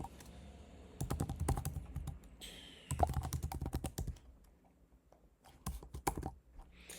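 Typing an email address on a computer keyboard, heard as bursts of close, crisp key clicks in quick runs separated by short pauses, with no talking.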